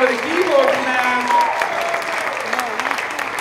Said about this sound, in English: One more big round of applause for the keyboard class.